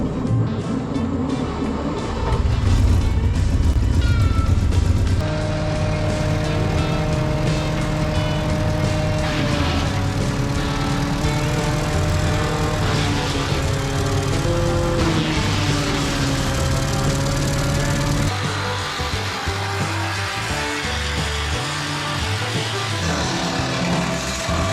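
A worn junkyard wood chipper engine runs loud and steady at high RPM, giving a continuous drone that shifts in pitch partway through.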